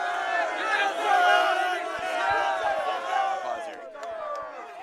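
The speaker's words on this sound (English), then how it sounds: "As you can see, a lively crowd here" A lively football crowd at a College GameDay pregame in Ames, for Iowa against Iowa State, cheers and yells loudly and continuously in a dense roar of many voices.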